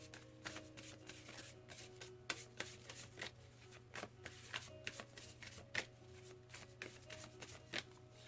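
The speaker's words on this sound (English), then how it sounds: "let's pull an oracle card here" Oracle cards being shuffled by hand, a quiet run of soft riffling and tapping bursts in an irregular rhythm, close and faint, with no talking.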